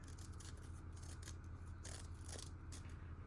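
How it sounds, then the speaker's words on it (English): Scissors snip repeatedly through a playing card, a series of crisp, close cuts in an uneven rhythm, quiet and with no talk over them. "I just kind of pull the scissors when I'm cutting to get that kind of"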